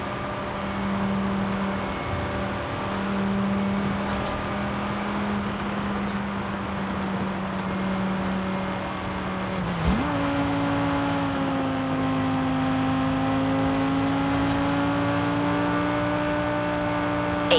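An Audi RS6 or RS3 drives in the racing game Forza Horizon 5, its engine holding a steady tonal hum that drops and then climbs again after a gear change, with faint clicks and no talking.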